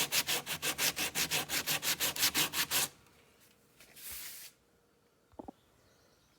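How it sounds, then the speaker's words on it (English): Sanding Bondo body filler on a C3 Corvette interior trim panel by hand, a steady run of about a dozen rhythmic rasping strokes close up, then quieter scraping and a few small knocks with no talking. "I'm just sanding some more Bondo out of here and getting it smoothed out a little more gooder than what it is."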